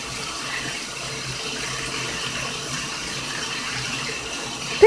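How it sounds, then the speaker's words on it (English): Tap water runs steadily into a bathtub, a continuous moderate splashing flow at close range, with a brief sharp sound right at the end. "we need to turn off the water, baby."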